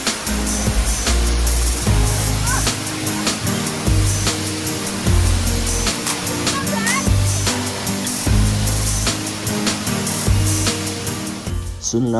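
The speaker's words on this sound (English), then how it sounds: "we found our waterfall, and we were excited to see that the trail went right underneath the falls itself" A waterfall in the Lauterbrunnen valley roars close by in a dense, constant spray of water, with a loud low rumble running underneath and brief bursts of wind buffeting.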